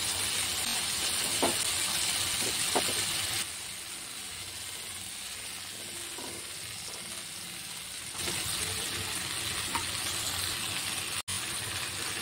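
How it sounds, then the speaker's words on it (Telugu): Okra and tomato pieces fry with ground masala in a pan, giving a steady, soft sizzle and hiss that drops slightly in level partway through, then rises again. "తర్వాత ఈ మసాలాను అంతటిని బాగా పచ్చివాసన పోయే వరకు వేయించుకోవాలి."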